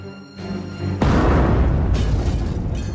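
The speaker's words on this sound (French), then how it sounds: "Un obus tombe sur le balcon voisin." An artillery shell bursts during wartime fighting in a city, a sudden loud blast that erupts and then rolls on as a long, heavy rumble with debris-like crackle.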